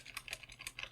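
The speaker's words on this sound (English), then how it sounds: "Googling, which I fully know will mean that I have to edit out some typing." Quick, light keystrokes on a computer keyboard, a handful of soft clicks in an uneven rhythm, close and quiet.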